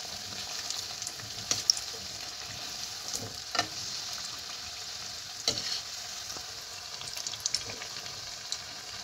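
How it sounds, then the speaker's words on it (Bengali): Banana flower chops frying in hot oil, a soft steady sizzle with light scattered crackles and a few faint stirring clatters, no voices. "দেখুন সমস্ত মোচার চপ আমার ভাজা হয়ে গেছে।"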